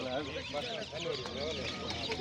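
Meat chickens for sale at a Sungurlu, Çorum poultry market cluck in a crowded chorus, fairly soft and continuous, with voices talking in the background.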